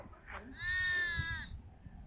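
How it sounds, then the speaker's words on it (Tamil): A single goat gives one drawn-out, wavering bleat, close and fairly loud, from a large goat pen on a farm holding around a thousand goats, with faint low background rumble around it. "ஆடு பட்டி போட்டிருக்கிறோம் ஆடு எத்தனை கிட்டத்தட்ட இதில் ஆயிரம் ஆட்டுக்கு பக்கம் இருக்குது"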